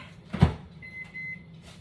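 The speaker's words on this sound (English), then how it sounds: "So I'm gonna throw it into my microwave" A microwave door thumps shut, then a steady electronic tone sounds briefly as the oven starts up, with a low hum underneath.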